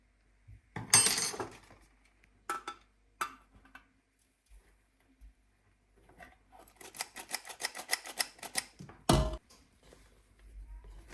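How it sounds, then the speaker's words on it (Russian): Flour, cocoa and baking powder being sifted into egg batter while it is stirred, with quiet scattered clinks and taps on a bowl, then a burst of fast rhythmic rattling and scraping, all close and without talk. "Просеиваем муку, постоянно помешивая смесь, чтобы наша яичная масса не опала."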